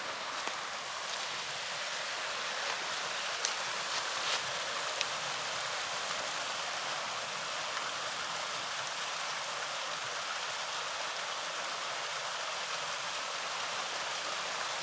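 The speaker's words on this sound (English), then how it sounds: "a little bit of a waterfall, I guess, down there" Steady broadband rush of a small waterfall trickling down a slope beside the Hopper House forest trail at Cherry Springs. The flow is faint and distant, constant throughout, with a few light footstep or twig clicks and no talking.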